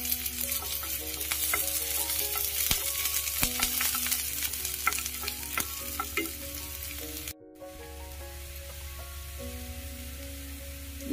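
Chopped garlic and onion sizzle and fry in a pan while being stirred, a steady close crackle with frequent scraping stirs, then a brief cut and the frying continuing slightly quieter.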